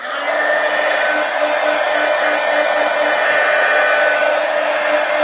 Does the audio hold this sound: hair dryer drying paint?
yes